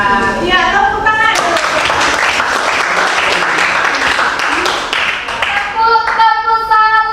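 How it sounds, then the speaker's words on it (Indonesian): A crowd claps hands together at a village learning session, a dense, loud burst of applause that fades near the end as voices take over. "tepuk tangan."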